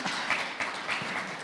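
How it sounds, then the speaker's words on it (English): An audience at a rule-of-law report launch applauds the minister, a brief, dense wash of many hands clapping at a moderate distance, steady and without talk. "Please give our Honorable Minister another hand clap."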